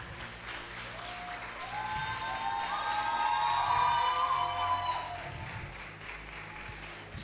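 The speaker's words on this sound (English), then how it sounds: "with another standing ovation and a round of applause" An audience at a TEDx event gives a standing ovation, with applause swelling to a peak midway and then tapering off. It sounds fairly distant and soft, with faint cheers mixed in.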